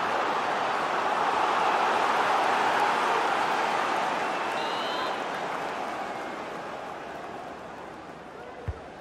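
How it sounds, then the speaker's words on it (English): Stadium crowd in EA Sports FC 24 during a Premier League football match, a broad continuous roar of cheering that swells and then slowly fades, with no clear speech. "the crowd are certainly trying to help get their team back into this"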